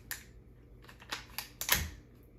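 A Tippmann TMC paintball marker with a First Strike mod gives a few small plastic clicks, the last a sharper, fuller click as the part seats, close by and quiet.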